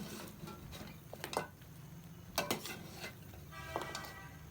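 Spices with fennel and garam masala being roasted for beef nihari, stirred in a pot with a few quiet metallic clinks and scrapes over a soft background hiss.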